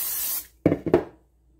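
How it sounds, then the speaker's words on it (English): Vegetable oil cooking spray hisses onto a baking pan in a kitchen, one longer spray followed by two short quick bursts, close and clear with no talking. "So I'm going to spray the pan."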